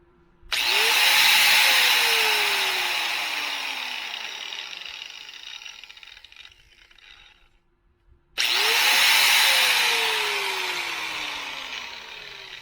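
A new DeWalt angle grinder spins up to 11,000 RPM with a loud, steady high whine, then winds down over several seconds with a falling tone before a second start brings it back to full speed.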